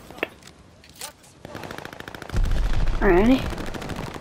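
Rapid automatic gunfire at a hard point in a Call of Duty Vanguard multiplayer match, sharp repeated shots growing louder midway, with a short spoken remark and game voice overlapping.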